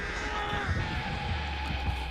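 Crows caw in Dead by Daylight, a few harsh calls rising over a dark, droning game ambience with low rumbles, moderately loud and without talk.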